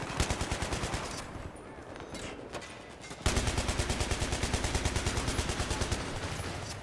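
A heavy machine gun in Battlefield 3 fires long, loud bursts at a steady, slower cadence, with a brief lull before sustained rapid fire resumes.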